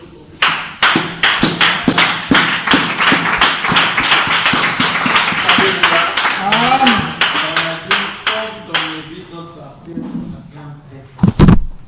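A church congregation claps in a steady, brisk rhythm for several seconds, loud and near, then breaks into sung and shouted acclamation as the clapping thins, ending with a couple of heavier thumps.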